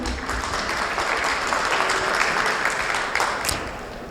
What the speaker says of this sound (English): we'd like to give them a round of applause, please.